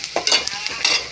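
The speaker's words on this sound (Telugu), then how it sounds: "బాగా వేగిపోయండి ఉల్లిపాయలు." Onions frying in a pan for a yardlong bean curry, a brief close sizzle with a couple of soft stirring scrapes.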